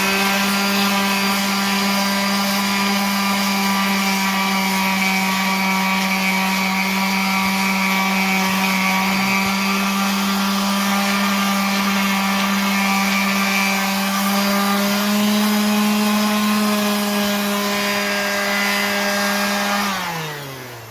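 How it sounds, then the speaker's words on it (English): A rotary sander works on a scratched alloy rim from a 2020 Alfa Romeo, a loud, sustained motor whine that holds steady pitch, rises slightly under load near the end, then winds down as the tool stops; no talking. "So now we'll take our rotary sander."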